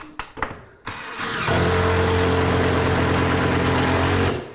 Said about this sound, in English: If you're not sure what the sound of driving a screw into wood is, that's it.